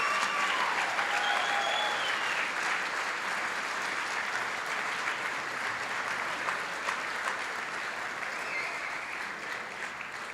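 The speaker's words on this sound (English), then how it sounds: "How about a round of applause for Heather, Ian, all of our honorees," Sustained applause from a large crowd at an annual achievement night honoring award recipients and their families, a dense even roar of clapping that holds steady for about ten seconds and then slowly fades.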